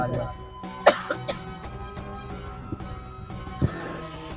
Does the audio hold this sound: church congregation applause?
no